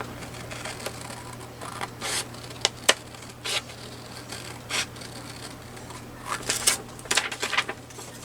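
Paper being torn by hand for a junk journal collage: short scattered rips and rustles, fairly faint and close, with a few bursts clustered toward the end over a quiet background hum.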